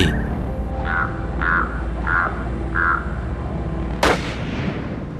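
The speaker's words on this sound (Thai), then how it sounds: "ขณะที่เสียงปืนดังก้องไปทั่วหุบเขา" A single sharp, loud gunshot from a deer cull rings out and echoes through a valley, preceded by several short bird-like calls, likely ravens, over a steady outdoor background.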